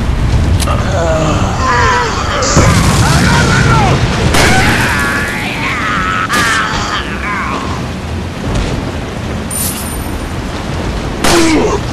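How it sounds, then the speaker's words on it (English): Powder barrels loaded on a wagon are shot and burst into explosions in Resident Evil 4, with several heavy booms and sharp bangs in a loud, chaotic stretch mixed with a voice. "Leon, shoot those barrels on that wagon."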